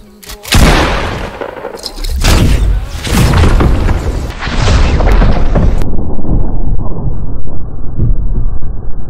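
Blue pump shotgun fired in a video game, a loud close boom followed by a second heavy blast and a sustained rumbling roar that fills the rest of the moment.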